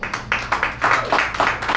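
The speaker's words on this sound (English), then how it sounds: "That sounded just like Symphony applause, so that was very appropriate." Audience applause at a live music bar in Baton Rouge, a dense run of many hands clapping at close range, steady and fairly loud with no voices over it.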